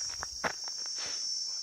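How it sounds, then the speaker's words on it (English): A steady high-pitched chorus of crickets chirps continuously in Zimbabwe, with faint rustling and a few soft footstep-like taps underneath. "I've always wanted to see these crickets in action"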